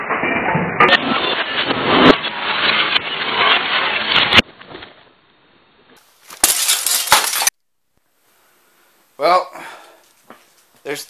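Broken glass shards clinking and scraping in bursts up close, with a sharp crunch around the middle and someone talking between them.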